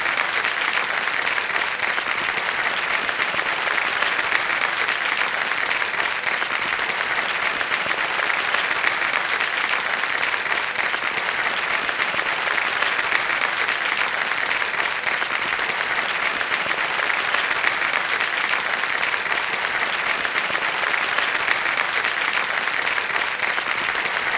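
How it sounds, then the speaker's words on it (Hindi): Studio audience applause on a TV quiz show, steady and loud throughout as guests are welcomed, a dense continuous wash of clapping with no break. "तालियां बजते रहे"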